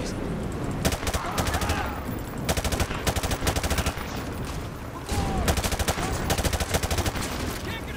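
Rapid automatic gunfire in Call of Duty MW2 Remastered, loud sustained bursts rattling in two long volleys with a brief lull between, a voice faintly under the shooting.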